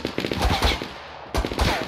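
Rapid gunfire in the video game Fortnite, loud and continuous, with a short break before the shooting resumes.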